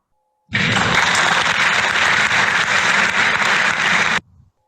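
Steady, loud applause from a large crowd during a virtual symposium, dense and continuous for about four seconds before stopping abruptly, with no talk over it.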